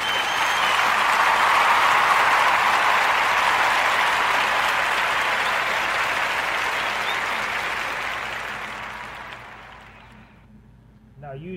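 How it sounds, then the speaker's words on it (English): Loud audience applause, a thick roar of clapping that holds for several seconds, then gradually fades away, with a voice starting as it dies. "give them a warm Narrator Podcast round of applause."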